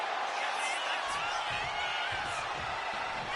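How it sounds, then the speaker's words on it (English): A wrestling video game crowd reacting with a broad, steady roar of noise, low thumps starting partway through, and a faint voice in the background. "China drawing a big reaction from the crowd."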